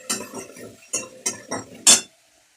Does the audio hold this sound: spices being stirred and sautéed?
yes